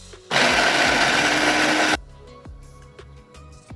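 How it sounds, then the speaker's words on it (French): A kitchen blender purees peppers, onion and garlic in a loud, steady whir lasting about a second and a half, cutting off abruptly and followed by faint clicks and kitchen handling sounds. "Allons-y pour l'oignon et l'ail. On va mixer tout ça."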